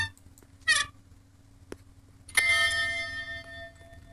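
In the mobile game The Ghost, a bell rings out with bright metallic chimes, a short strike first, then a louder ring with a lingering shimmering decay, over a quiet background hum.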